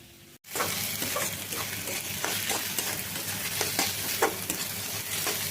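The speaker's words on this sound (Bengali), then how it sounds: "এখানে পেঁয়াজ রসুন আদা কুচি আর লঙ্কা কুচি আমি ভেজে নিচ্ছি।" Chopped onion, garlic, ginger and chili frying for tarka, a loud, steady close sizzle that starts abruptly and carries scattered crackles and stirring scrapes throughout, with no talk.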